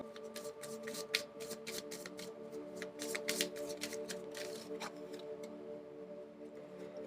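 Tarot cards shuffled and drawn from a deck, a rapid run of crisp papery riffles and flicks, close and steady over a faint background hum.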